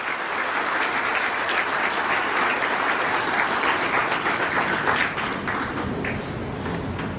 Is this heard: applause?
yes